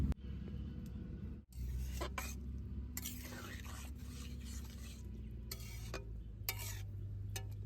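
Raw jackfruit with a little salt heating in a pan and being stirred, giving repeated scraping stirs over a steady low cooking rumble, with brief bursts of louder scraping throughout.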